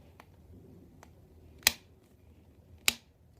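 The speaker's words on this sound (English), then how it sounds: "So you'll hear 2 clicks." A Hot Toys Avengers Hulk figure's ratcheting elbow joint gives two sharp, faint clicks about a second apart in an otherwise quiet room.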